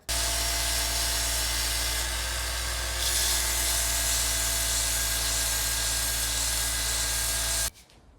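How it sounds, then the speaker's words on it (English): Steady, loud whir of a sander grinding a steel 4 3/4 lb double bit axe head, a continuous hissing drone with an even tone that runs for several seconds and cuts off abruptly near the end, no voices. "That was just a couple minutes on the sander there."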